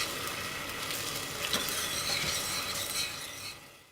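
Ginger, garlic and green chili paste hits hot butter in a pan and crackles into a bright, close sizzle that swells, holds for a few seconds, then begins to fade.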